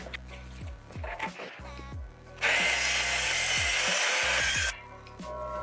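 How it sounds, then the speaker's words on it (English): A new DeWalt miter saw cuts a wood slab for a Telecaster guitar build: a short whirring spin-up followed by a loud, steady two-second bite through the wood, then the blade winding down, with faint workshop knocks around it. "Just want to show you how cleanly this new DeWalt miter saw that I have cuts."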